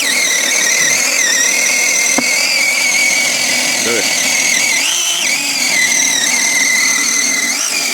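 An ABS electric chainsaw whines at a high, steady pitch as it chews through a log about 35 cm thick, the tone dipping and rising under load, with voices talking underneath.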